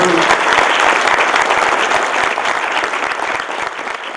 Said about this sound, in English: I want to ask for a great applause to that wonderful team